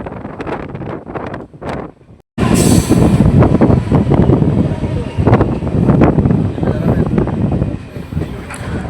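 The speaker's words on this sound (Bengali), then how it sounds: "আমাদের ট্রেন এখন স্কিপ স্কিপ করছে পোড়া বাজার" A train rolls through Pora Bazar station without stopping, a loud, steady roar of wheels and rushing wind that starts abruptly and continues close and constant, with rattling clatter throughout.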